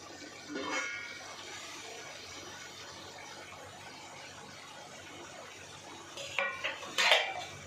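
A knife clinks and scrapes against a pot of cooked dhokli, a quiet steady kitchen bed broken near the end by a few sharp metallic taps and clatters.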